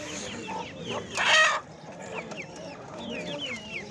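Chickens and turkeys at an outdoor poultry market in Gördes, Turkey, cluck and call in a busy mix, with one louder nearby outburst among scattered fainter bird calls and a low background of crowd murmur.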